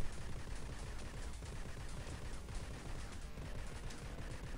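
Dense, continuous gunfire from the normal gun in the Judge Dredd Sega video game, rapid shots blending into a steady noisy rattle, faint overall.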